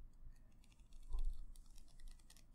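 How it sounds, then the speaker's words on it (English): Soft scratching and tapping as fingernails run slowly over angel tarot cards, a quiet close-up rustle with a slightly louder stroke midway. "You can run your fingers, your nails over the cards."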